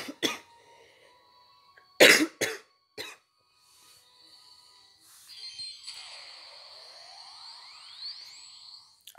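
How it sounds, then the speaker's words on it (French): Several sharp coughs, a couple in quick pairs, stand out near the microphone, followed by quiet electronic tones and a rising digital sweep. "excusez-moi si vous m'entendez tousser"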